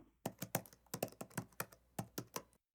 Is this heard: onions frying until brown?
no